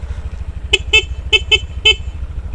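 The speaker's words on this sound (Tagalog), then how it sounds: "Busina." Five short, loud horn beeps from a Bristol Invictus 160 motorcycle, sounded in an uneven pattern over a low engine hum.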